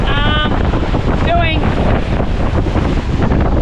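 Strong wind buffets the microphone aboard a Dragonfly trimaran sailing at around 7 knots in rough, bumpy seas between Greece and Sicily, a loud constant roar with rushing water underneath and brief whistling tones.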